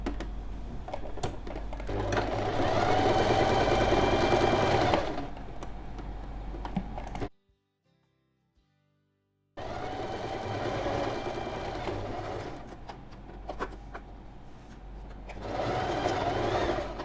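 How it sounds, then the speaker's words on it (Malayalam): Sewing machine stitching a homemade fabric mask, running in long steady whirring bursts close by, with a few seconds of silence between two runs and no talk over it. "അപ്പോൾ നമ്മൾ തയ്ക്കുമ്പോൾ ഇങ്ങനെ തയ്ച്ചു കൊണ്ടുവന്നിട്ട് ഇവിടെ വരെ തയ്ക്കുക."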